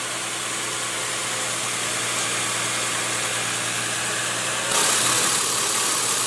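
A 2015 Nissan Xterra's 4-liter V6 idles steadily with a low, even hum that gets slightly louder near the end, close up with the hood open and no talking.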